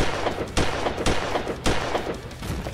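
In Slendytubbies 3, a gun fires repeated loud, close shots at a steady pace, about every half second, over constant chaotic game noise.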